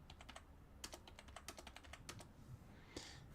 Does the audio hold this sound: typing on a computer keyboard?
yes